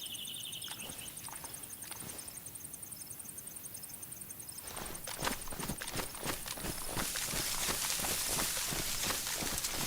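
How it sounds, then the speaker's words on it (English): Footsteps in the survival game DayZ: faint at first, then a rhythmic run of steps grows louder and nearer over the second half, heard alone without talk. "I swear I just heard footsteps."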